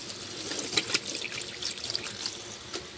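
Water trickles and splashes from a kitchen tap while spaghetti and steak are being cooked, a faint, brief, uneven running stream with a few small splashes.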